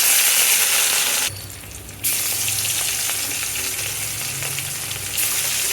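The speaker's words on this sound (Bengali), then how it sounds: "সবগুলো মাছ ভালোভাবে বেজে নিব" Fish coated in turmeric and salt frying in a pan, giving a loud, close, steady sizzle that briefly drops as if the pan is moved, then returns at full strength.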